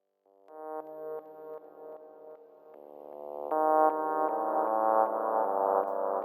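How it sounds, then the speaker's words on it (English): A thin, filtered synth bass line plays a repeating pattern, growing louder and brighter partway through, with echoing repeats trailing each note. "what I'm doing with the bass voice, I'm sending it through a high-pass filter"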